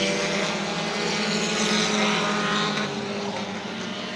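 Bomber-class race cars at New Smyrna Speedway roar past in a loud, continuous drone of engines, the pitch holding steady and then easing slightly as the pack moves on.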